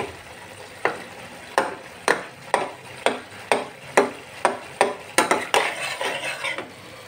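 Cooked chickpeas (chola boot) being stirred and mixed with spices in a pan: about a dozen rhythmic scraping strokes of a utensil against the metal, close and clear, over a light sizzle with no talking.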